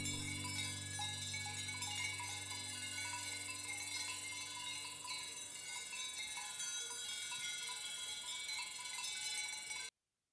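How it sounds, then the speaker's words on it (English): Many cowbells on cows at night in Switzerland clank and tinkle softly in a steady, overlapping jangle, faint and distant, before stopping abruptly. "we fell asleep to the sound of cowbells"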